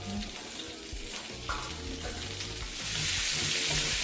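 Asparagus added to a hot pan sizzles and crackles steadily in a home kitchen, the frying hiss growing brighter and louder in the second half, close and without talk.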